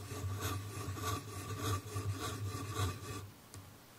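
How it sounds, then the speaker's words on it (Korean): A Lamy fountain pen scratches across paper close to the microphone, a series of rhythmic rasping strokes at a steady pace that stop shortly before the end, with no talking. "라미 같은 경우는 좀 사각사각 소리가 들렸죠."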